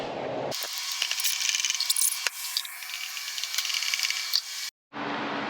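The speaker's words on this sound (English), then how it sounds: "Screw it right in and repeat on all of them" Screws are driven into a surfboard mount with a steady ratcheting, grinding rattle for several seconds, close and fairly loud, then a brief pause before faint handling resumes.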